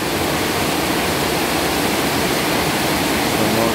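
Heavy rain pours down over a home on a weekend as a dense, continuous loud hiss, close and unbroken, with no talking.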